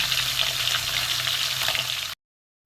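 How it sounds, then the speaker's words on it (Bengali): Pangas and tengra fish pieces fry crisp in hot oil with a loud, steady, crackling sizzle that runs unbroken, then cuts out for a moment before resuming. "এই 4 পিস মাছ আমি ভেজে নেবো কড়া করে"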